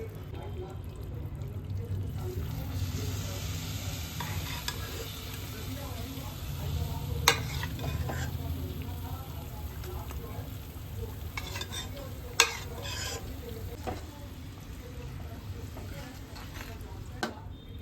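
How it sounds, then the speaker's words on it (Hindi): Boiled bottle gourd being stirred in sugar syrup in a pan over a high flame, a steady soft bubbling sizzle with scraping spoon strokes and a couple of sharp clinks against the pan. "अब इसको हाई फ्लेम पर 5 से 6 मिनट हमको चलाना है।"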